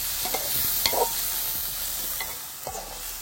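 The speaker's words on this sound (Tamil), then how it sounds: "வதக்கிறதுக்கு வெங்காயம் போட்டாங்க." Onions sautéing in a pan while a dry fish curry is cooked, a steady close hiss of frying with a few scraping stirs and clinks, no talking.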